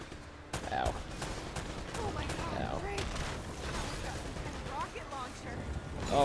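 Gunfire in the action game Uncharted: Drake's Fortune, a dense clatter of repeated shots and impacts with game effects throughout, while players talk over it.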